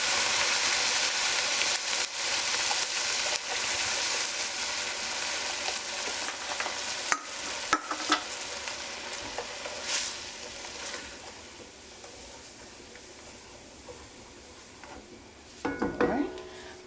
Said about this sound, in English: I'm going to deglaze the pan